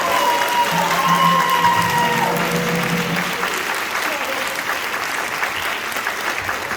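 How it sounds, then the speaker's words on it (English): An audience at a high school end-of-year concert applauds steadily, a dense wash of clapping that fades slightly toward the end. A voice is faintly heard early on. "Everyone give a big round of applause to Russell."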